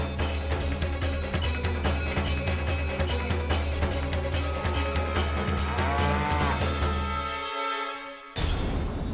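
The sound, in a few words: cow mooing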